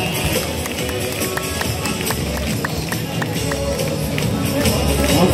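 Audience at a live concert claps continuously, a dense even patter of many hands that stays loud and steady throughout, with crowd murmur mixed in.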